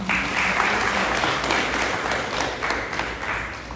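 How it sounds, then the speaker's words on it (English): Audience applause at a 2022-2023 graduation ceremony for a graduate, a dense, steady wash of many hands clapping at close range for nearly four seconds, with no one speaking over it. "Let's have a round of applause for Junior"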